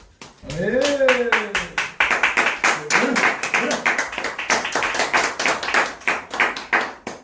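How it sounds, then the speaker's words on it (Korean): A church congregation in Korea claps after a youth speech. A few loud, distinct hand claps are followed by steady, rhythmic clapping from a smaller group, and a voice speaks briefly at the start. "저희 다시 한번 스피치 해주신 이혜지 청년을 위하여서 큰 박수 부탁드리겠습니다."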